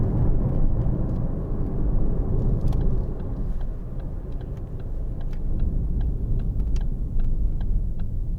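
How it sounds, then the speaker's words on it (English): Inside a 2013 Ford Focus 1.6 TDCi ECOnetic on the road, a steady low engine and road drone fills the cabin, with faint ticks and clicks over it. "gear shifting"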